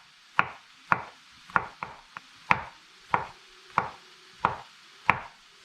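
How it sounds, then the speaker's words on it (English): Knife chopping three big mushrooms into chunky pieces on a board: about ten crisp, evenly spaced knocks, close and distinct, with no talk. "I've got these 3 beautiful big mushrooms and I'm going to cut these up into not too big pieces"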